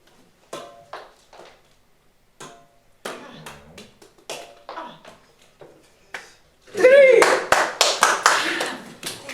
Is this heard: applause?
yes